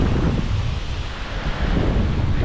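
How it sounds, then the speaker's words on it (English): Strong northwest wind blows across a lake in Massachusetts, buffeting the microphone in a loud, continuous roar that swells and dips slightly, with no voices. "the wind seems to be coming out of the northwest today"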